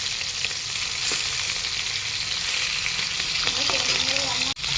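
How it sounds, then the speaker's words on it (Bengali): Hilsa fish lightly frying in a pan, giving a steady, dense sizzle that runs throughout at a close, even level, with a faint scrape near the end. "এই দেখো ইলিশ মাছ হালকা করে ভেজে নিচ্ছি, বেশি ভাজবো না, একদম হালকা করে ভাজবো"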